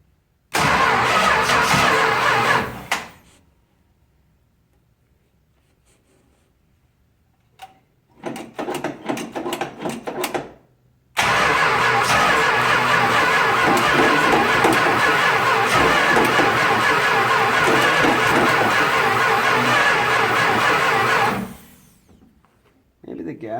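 A 1966 Plymouth Fury's engine cranks in three bursts: a short one, a brief stuttering one, then a long steady churn of about ten seconds. The carburetor has just been cleaned, and the engine still does not quite run.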